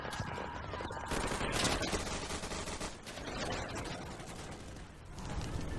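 Heavy gunfire in the World War II shooter game Day of Infamy, a dense, continuous rattle of rifles and machine guns with overlapping shots throughout.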